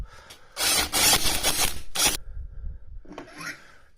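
Metal scraping and grinding as a flywheel puller is screwed into the flywheel of a Yamaha YZ85 dirt bike engine, several rough close strokes followed by a quieter rasp.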